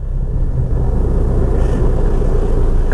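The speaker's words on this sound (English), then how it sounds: "there's noises, there's bangs, there's creaks" A rotten Honda CR-V left unmoved for about seven months rolls slowly, giving off a steady low rumble with faint creaks and knocks inside the cabin. No speech.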